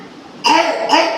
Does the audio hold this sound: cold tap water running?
no